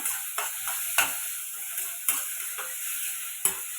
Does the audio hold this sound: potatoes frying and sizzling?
yes